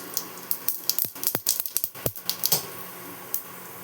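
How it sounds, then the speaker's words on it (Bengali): Nigella seeds dropped into hot mustard oil give off quick, scattered little pops and crackles, mostly faint, with a few sharper snaps over a quiet, low background. "এর মধ্যে আমি সামান্য কালো জিরে ফোড়ন দিয়ে দিচ্ছি।"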